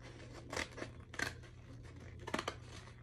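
Scissors snipping through a paper sewing pattern for a plus-size garment, three clear bursts of cutting strokes close by over a steady low hum, no talk.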